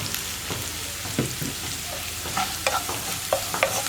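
Sliced onion sautéing with turmeric powder in a pan for parippu curry, a steady close sizzle broken by scraping stir strokes that sharpen toward the end.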